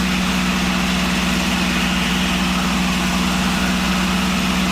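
A P-51 Mustang warbird's piston engine runs at reduced power, about 2400 RPM, a steady, loud, even drone with a strong low hum and no pauses throughout.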